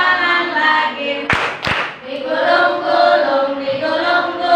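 Two sharp hand claps from a group playing an Indonesian clapping song game in a teacher-coaching session ring out close together between stretches of sung voices.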